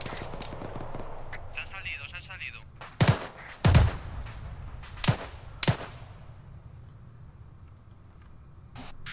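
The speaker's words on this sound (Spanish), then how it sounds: "Sí, le ha disparado dos veces." Several sharp video game gunshots crack out in quick, uneven bursts, loud against a low background, with faint voices murmuring beneath.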